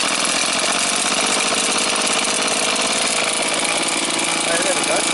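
A small two-stroke Stihl petrol garden tool, a trimmer like the FS94, runs at high throttle after a pull-start, a loud, steady buzzing drone that fills the whole stretch close by.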